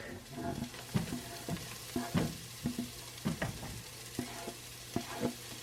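Garlic frying in a pan, with a quiet sizzle beneath repeated rhythmic spoon scrapes and taps about twice a second, close but soft and with no one speaking.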